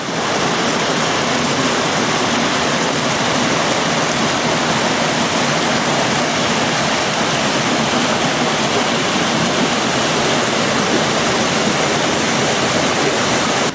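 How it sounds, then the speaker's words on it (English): Water rushes down into a gorge in Glen Nevis, Scotland: a loud, steady, broadband roar that fills the whole stretch without pause, with no voices. "I'm at the top of the gorge now where the water starts to flow down into it"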